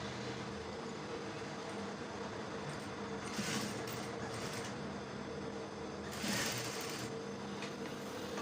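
A sewing machine stitches a camp-style shirt collar with a steady mechanical whir, fairly quiet, swelling briefly in two short bursts of faster running.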